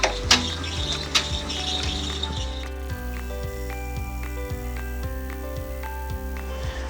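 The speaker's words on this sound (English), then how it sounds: "I'm going to put it back in the hoop or in the machine, and I'm going to run my satin stitch for the top portion of the case" An embroidery machine running a satin stitch along the edge of a glasses case, a fast, even mechanical chatter of needle strokes with a steady motor hum, close and continuous after an opening burst of clicks.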